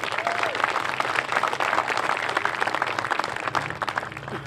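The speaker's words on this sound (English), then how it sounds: "and we applaud you for that." An outdoor audience at the City of Hemet Veterans Day Ceremony in 2017 applauds veterans with a dense, sustained round of clapping that fades slightly near the end.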